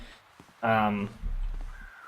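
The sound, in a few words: crows cawing in a video game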